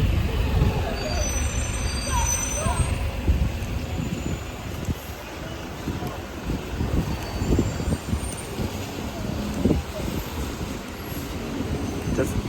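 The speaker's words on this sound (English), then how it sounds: "A lot of traffic in Greenford today." Road traffic at Greenford Broadway bus terminal: heavy vehicles and buses rumble and hiss with air brakes, a continuous busy roar heard from nearby, with scattered clatter throughout.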